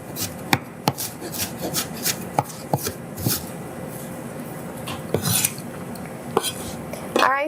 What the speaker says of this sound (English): I'm just gonna chop my ginger up into some tiny little cubes